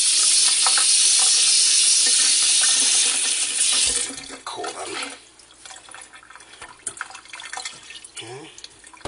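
Hot water poured from a tap over wool being felted into mukluk liners, a loud splashing stream that cuts off partway, followed by quieter dripping and wet handling while a person speaks briefly.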